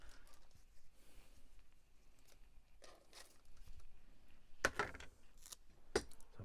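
A few quiet snips and crisp cuts through paper near the end, two sharp bursts standing out over soft rustling background.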